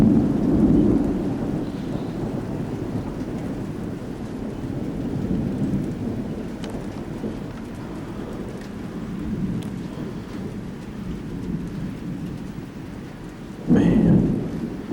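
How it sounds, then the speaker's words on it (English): Heavy thunderstorm with pouring rain, thunder rumbling low under the downpour and one sharp loud crack near the end as lightning strikes a transformer. "This is what I call one electrified storm."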